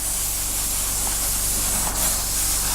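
Steady hissing spray of an airbrush laying down a misty coat of paint on a 1/48 scale Tamiya Supermarine Spitfire Mk.I model, continuous and close.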